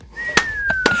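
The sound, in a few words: person whistling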